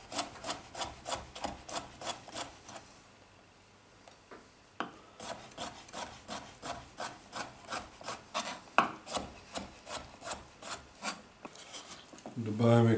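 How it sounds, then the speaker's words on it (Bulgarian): Cucumbers are sliced into rounds with a knife on a board for a bean salad, a quick even series of close crisp cuts, pausing briefly midway and then resuming at a steady rhythm. "След това нарязваме краставичките, краставичките на шайби."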